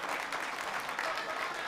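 A comedy club audience at Gotham Comedy claps in a brief, soft wash of scattered hands, fairly faint and distant throughout.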